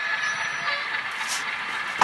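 A Rapido RS-11 model train locomotive runs across a set of track switches, giving a soft, steady electric whir and hiss that ends in a single sharp click.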